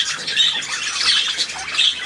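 An eagle gives repeated harsh, high squawks in a continuous scratchy series, close and fairly loud, with no talking.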